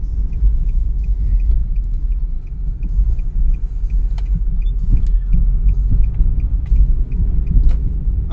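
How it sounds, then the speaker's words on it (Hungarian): A Nissan Note 1.4 accelerates from low revs, heard from inside the cabin as a steady low engine rumble with faint clicks and road noise. "Amúgy tényleg nagyon jó gyorsul, és ez a motor ilyen alacsony fordulatszámról is nagyon szépen meglódul."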